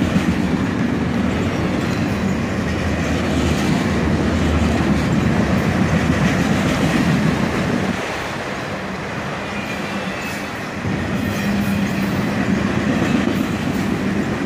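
CSX freight train of empty auto racks rolls past close by, with a continuous rumbling roar and rhythmic wheel clatter that eases briefly midway before building again.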